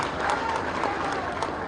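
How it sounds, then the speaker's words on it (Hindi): An audience claps at a BJP political rally in Bihar, a steady wash of crowd applause heard at moderate distance, with speech mixed in. "एक बार जोरदार ताली बजाकर सबका स्वागत कीजिए।"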